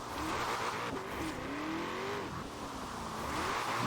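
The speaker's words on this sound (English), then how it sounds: "I'm gonna try to drift this thing" A car drifts in Forza Horizon 4 with a loud, sustained engine drone and a long wavering tire squeal that rises and dips as it slides, continuous for several seconds with no talking.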